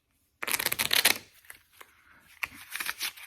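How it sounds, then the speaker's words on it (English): A deck of playing cards is shuffled close by, a loud riffling burst followed by a quieter rustle and a second short riffle, with no talk over it. "So I shuffled it a couple of times."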